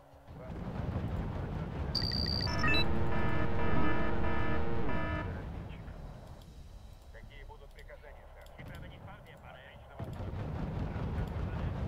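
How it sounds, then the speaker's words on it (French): An old 20 mm cannon fires in the Wargame: European Escalation video game, a burst of sharp, loud booming shots with a tonal alert early on, then quieter rumbling battle ambience, while a player talks. "Ils ont un vieux canon de 20 mm, ils me défoncent tout."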